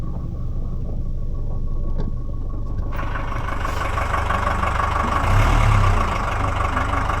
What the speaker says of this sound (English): Let's start it. And it's lovely. The diesel sound.